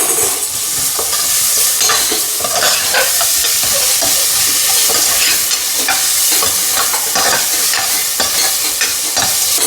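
Ginger garlic paste frying in a pan for bagara rice, a close, continuous loud sizzle with crackling and stirring scrapes running throughout, no talk.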